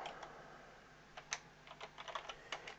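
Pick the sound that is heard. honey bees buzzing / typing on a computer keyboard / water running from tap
typing on a computer keyboard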